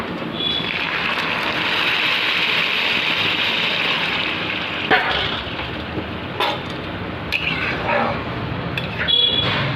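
Heated water poured into a kadai for basanti pulao, a steady broad rushing splash running for several seconds, close and fairly loud, with a few clinks and knocks near the end.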